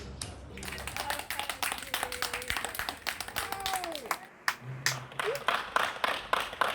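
Crowd applauding health workers during the Covid pandemic on 6 May 2020. Dense, steady clapping from many hands runs throughout, with faint voices mixed underneath.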